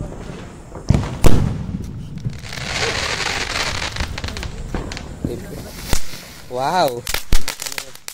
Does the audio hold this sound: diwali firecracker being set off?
yes